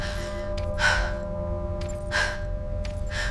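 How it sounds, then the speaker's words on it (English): Breathing picked up close in a headset microphone, three slow breath cycles with airy inhales and exhales, alone and evenly spaced. "breathing in my headset"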